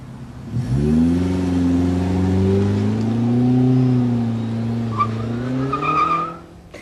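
Saab 900 engine started remotely, catching at once and settling into a loud, steady idle with a slight rise in pitch, then cutting off abruptly near the end.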